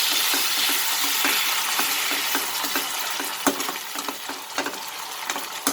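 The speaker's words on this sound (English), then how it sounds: "Let's cook the tomato for a minute." Tomatoes fry in a pan with bitter gourd and onion over reduced flame, giving a steady broadband sizzle broken by sharp crackles and stirring clicks, close and continuous with no talk.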